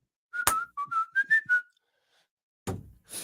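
A woman whistles a short, bright melody of about six rising and falling notes, close and clear, followed by a pause and a couple of soft knocks.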